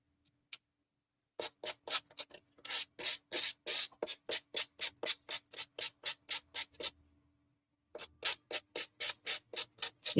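Rapid rhythmic strokes of a nail file shape acrylic nails, with dozens of short scratchy rasps in quick bursts separated by brief pauses, close and distinct with no talk.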